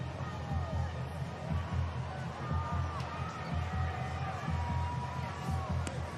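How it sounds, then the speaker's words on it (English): Stadium crowd at the Singapore Sevens women's rugby match between New Zealand's Black Ferns and Ireland, applauding and cheering for Portia Woodman-Wickliffe, a steady distant roar of clapping and hubbub with a commentator talking over it. "They're all applauding the all-time great Portia Woodman Wycliffe."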